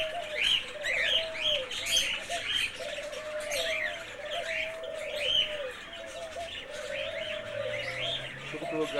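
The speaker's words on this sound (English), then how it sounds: "A lot of doves and cockatoos and parakeets." Doves coo in repeated low phrases while smaller birds chirp and tweet throughout an aviary at a South African bird park, with faint voices in the background.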